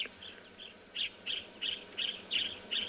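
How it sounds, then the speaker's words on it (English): Yellow-throated apalis calling at sunrise on a southern African safari, a series of about eight quick, high, evenly spaced chirps repeating steadily against a soft background hum of the bush. "I am looking for this yellow-throated apelus that's calling."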